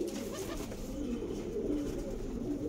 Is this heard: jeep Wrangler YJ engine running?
no